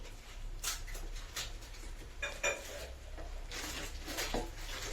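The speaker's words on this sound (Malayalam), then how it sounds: "എന്നിട്ട് അണ്ടിപ്പരിപ്പും മുന്തിരിയെല്ലാം ഇട്ട് നല്ലോണം ഒന്ന് മിക്സ് ചെയ്യാം" Cashews and raisins stirred into a home-cooked dish, giving soft scraping and clinking of a spoon against a pot in short irregular strokes, close and fairly quiet, with no talking.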